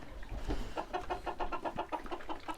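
A laying hen clucks in a quick, steady series of short calls, close and fairly quiet over a low background rumble.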